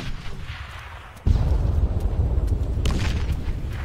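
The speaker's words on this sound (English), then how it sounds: "Oh, I got grenaded." A grenade goes off in the military shooter Arma 3 with a sudden deep boom, followed by a sustained rumbling roar and a few sharper cracks from nearby gunfire.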